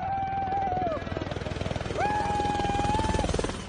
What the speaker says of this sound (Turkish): yüksek rakımlı dağa askerleri bırakan helikopter alçak uçuşla